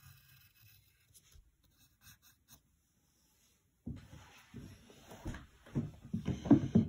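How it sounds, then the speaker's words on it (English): Pencil drawing curved lines on paper for a cartoon fox sketch, quiet at first with faint strokes, then a run of louder scratchy, rubbing strokes close to the microphone. "Next, we're going to draw this"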